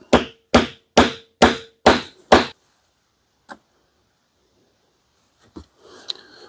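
A metal snap is pounded against the dished hollow of an anvil while making a leather axe mask, six sharp, evenly spaced hammer strikes in quick rhythm, followed by quiet and a few lighter taps and handling noises.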